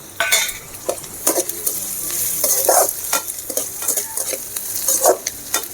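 Onions and curry leaves sautéing in a pan for okra stir-fry, loud close sizzling with frequent scraping strokes of a spoon stirring, alone without speech.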